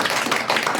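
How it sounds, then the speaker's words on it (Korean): Audience applause at an instructor workshop, a short burst of dense clapping from a group of people. "우리 다 같이 박수 드릴까요?"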